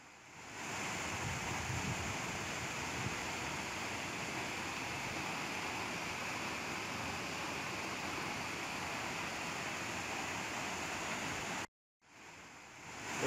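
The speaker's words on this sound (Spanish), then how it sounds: "Esta hermosa cascada es una pendiente del río Quero" Mucú waterfall, a drop on the Quero river, roars in a steady, dense broadband rush that holds unbroken for about eleven seconds, then cuts out briefly near the end before resuming.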